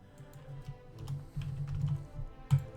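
Keystrokes on a computer keyboard during a Hearts of Iron IV strategy game session, a quiet run of soft clicks with a few louder taps, alone without talk.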